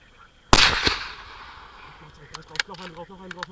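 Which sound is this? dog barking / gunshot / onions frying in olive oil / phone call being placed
gunshot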